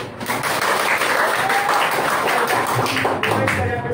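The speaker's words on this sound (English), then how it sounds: "Let's give him a loud clap." Classroom applause for a student presenter after a group report, a dense steady wash of many hands clapping for about four seconds, with faint voices mixed in.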